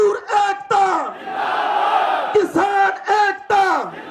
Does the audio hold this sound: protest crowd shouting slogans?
yes